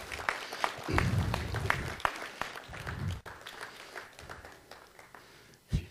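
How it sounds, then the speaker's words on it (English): Audience applause at a city council meeting, scattered clapping that bursts up loudly near the start, then thins into quieter, uneven claps with a few louder hits and a final sharp clap near the end. "Give her a round of applause."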